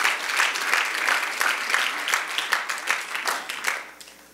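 A church congregation claps together in sustained applause, a dense, steady patter of many hands that swells slightly and then tapers off near the end.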